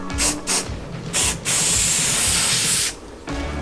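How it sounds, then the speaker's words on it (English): A spray can of rusty metal primer hisses in several bursts on a car's rusty metal, short sprays followed by one long steady blast, then a final short spray, close and loud. "Now I'm going to hit it with some rusty metal primer just to hopefully stop that from rusting."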